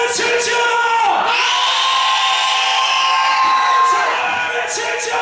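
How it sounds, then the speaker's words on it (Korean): A congregation at a Korean church's special prayer meeting shouts together. Their loud, sustained roar of voices swells for a few seconds and then fades back into the crowd noise. "함성을 외칠지어다."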